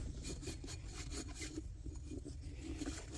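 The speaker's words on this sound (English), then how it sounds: "bring my Scotch-Brite back just to give that a quick once over" A Scotch-Brite pad scrubs the tire bead area of a zero-turn mower, giving steady, close, rapid abrasive rubbing with no pauses and no talk.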